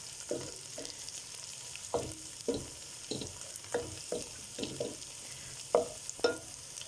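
Onions and tomato puree fry in a pan with a soft background sizzle, punctuated by regular scraping knocks of a utensil stirring; no voices.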